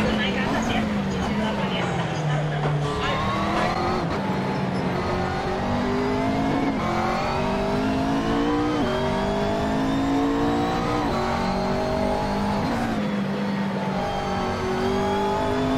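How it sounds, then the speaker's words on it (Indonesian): Race cars in a racing simulator game roar continuously, engines rising and dropping through gear changes with layered passing cars and faint tire noise, loud and dense, with voices talking over the action. "Ini pertama kali gue balapan di simulator"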